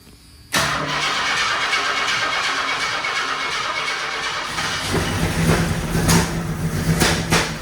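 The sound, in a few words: engine cranking and starting after engine install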